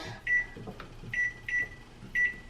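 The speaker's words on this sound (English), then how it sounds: "I turn on a timer for 15 minutes" Short electronic beeps from a kitchen timer being set while pasta cooks, four brief tones in an uneven sequence over soft clatter in a home kitchen.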